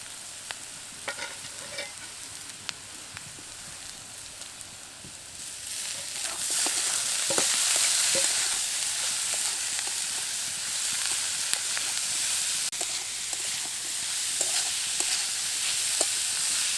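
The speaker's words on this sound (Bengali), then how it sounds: "সমস্ত সবজিগুলো খুব ভালোভাবে নেড়ে নিয়েছি।" Capsicum, green chilli, grated carrot and chopped tomato stirred in a frying pan make a soft scraping sizzle that swells into a louder, steady hiss partway through, with occasional utensil clicks.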